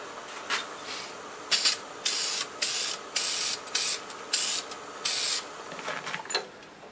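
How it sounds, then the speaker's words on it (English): Several short, close hissing bursts of a spray gun applying lacquer to a walnut bottle stopper, about seven in a steady rhythm, over a faint constant high-pitched whine. "I'll go ahead and spray a coat of lacquer on it"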